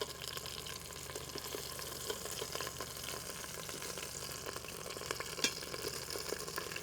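Onions sizzle and fry in a hot Instant Pot with browned fond on the bottom, a steady close crackle with faint stirring and scraping throughout, one brief sharper clack partway through.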